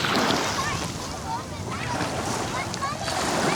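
Ocean surf and wind rush over the shoreline, a loud, close roar with wind buffeting the microphone and a faint voice partly underneath.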